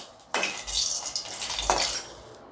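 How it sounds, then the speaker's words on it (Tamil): Green chillies fried lightly in a pan for a Tamil mint coriander chutney, heard as two sharp scraping stirs of a utensil against the pan over a soft, steady sizzle, with no talking. "இப்போ நல்லா மிளகாய் வறுபட்டுருச்சு."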